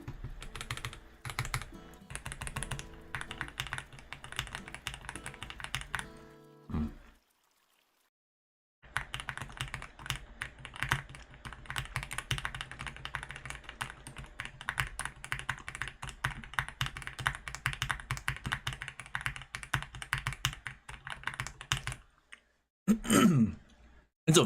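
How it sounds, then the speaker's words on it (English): Steady typing on a computer keyboard, close and clear, with fast uneven keystroke clicks running through the clip, one silent pause of about two seconds, and a brief throat clearing near the end. "It's a very good keyboard for the price."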